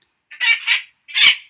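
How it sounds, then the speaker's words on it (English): A hen clucks in three short, close calls, with the first two following quickly on each other and the third coming after a brief pause, all in otherwise silent surroundings. "And you can hear her, the bird,"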